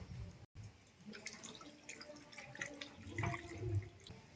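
Flour dough being washed by hand in water, with soft sloshing, splashing and dripping close up, the liquid running milky white; no one talks.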